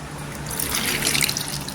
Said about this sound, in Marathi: इथे बटाटी आहे ना स्वच्छ धुवायची आणि बटाट्याची सालही काढायची नाही